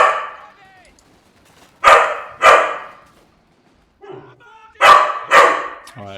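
A dog barks indoors in a room, four loud, close barks falling in two quick pairs separated by a pause, with a voice heard briefly before the first pair.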